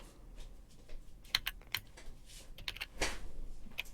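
Keys click on a computer keyboard in quick, irregular bursts of typing, close and fairly quiet, with scattered sharper taps and no voices.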